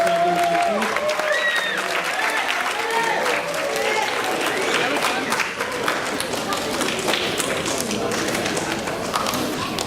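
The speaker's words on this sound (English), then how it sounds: "Let's hear a big round of applause for all of our debaters" An audience at a student debate event applauds the debaters with dense, sustained clapping that carries a steady, crowded patter throughout.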